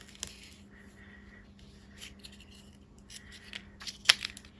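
Tear-and-tape strips being torn and pressed onto an envelope, with quiet scratchy rips, light rubbing and a few sharp crackles near the end, all faint and close with no talking.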